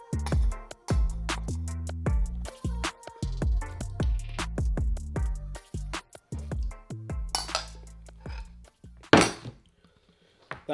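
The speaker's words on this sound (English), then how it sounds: "you're really trying to get every last bit off the bowl of oats" A spoon clinks and scrapes against a bowl in quick, irregular strokes, chasing the last oats from it. The metallic taps sound close and sharp, with a few brief pauses between them.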